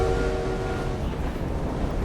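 A steam-era train rumbles at the train hideout in Assassin's Creed Syndicate, heard as a steady low rolling drone with faint tonal hum, continuous and fairly close, with no talking.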